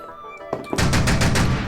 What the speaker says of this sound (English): the autocannon team will take the opportunity to shoot up at Lyra F